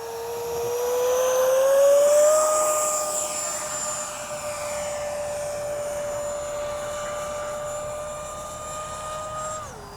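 A twin-engine H-King Flycat V2 radio-controlled jet makes a flying pass with its gear down, its high whine rising in pitch as it nears, loud around two seconds, then holding steady before fading slightly.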